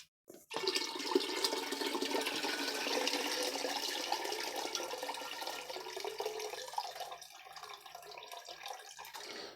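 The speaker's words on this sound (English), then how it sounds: "I'm gonna finish rinsing this off." Kale being rinsed under a running tap, a steady broad rush of water pouring continuously for several seconds, close and fairly loud, easing slightly toward the end.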